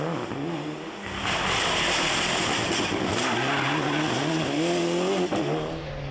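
Rally car driven by Armin Schwartz on the Isle of Man, its engine snarling loud and close with rising and falling revs through gear changes, sustained throughout with no talk.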